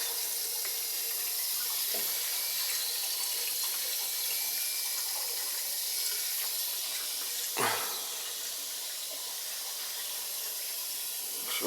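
Water runs steadily from a boiler's hot water storage tank as it is purged, a constant loud hissing rush with one brief knock partway through and no talk.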